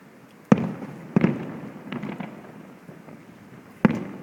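Fireworks explode over the sea at the Penghu fireworks festival, heard as about four or five separate booming bursts spread over a few seconds, some with rumbling tails, against quiet crowd ambience.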